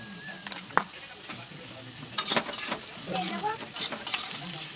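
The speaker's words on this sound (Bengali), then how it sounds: "ভাজা দেখো প্রায় হয়ে এসছে, এবার একটু নুন দিয়ে দেবো এতে।" Vegetables sizzle as they fry in hot oil in a home kitchen pan, with scraping stir strokes at irregular intervals, some bright and close, and a low background hiss throughout.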